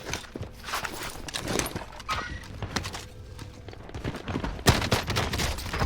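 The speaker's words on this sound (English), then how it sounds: "That was a shotgun." Rapid bursts of shotgun and automatic gunfire in a fast-paced shooter game, sharp cracks repeating through the clip with footstep-like clatter between shots, loud and close with no talk.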